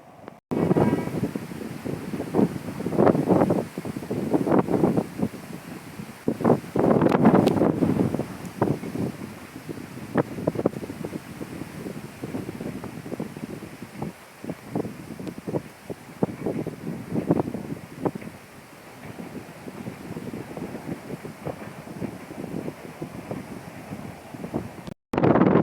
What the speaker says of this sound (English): Windy, mixed blessing for cyclists.